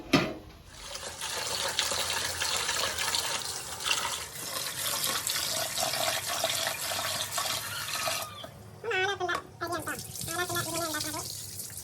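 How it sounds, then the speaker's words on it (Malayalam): Running water splashes and swirls in a bowl as rice is rinsed and drained, a continuous wash of water that gives way to brief kitchen sounds near the end. "അപ്പോൾ നമ്മൾ അരിയൊക്കെ കഴുകി ഊറ്റി വെക്കുക"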